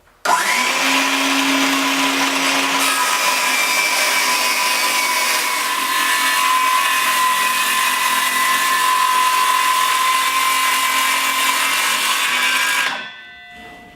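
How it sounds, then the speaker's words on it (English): A circular saw guided by a jig cuts through a plywood sheet taped along the cut line for a ping pong table, a loud continuous whining roar from start to finish that winds down as the blade stops. "this jig that is designed to make a clean cut with a circular saw"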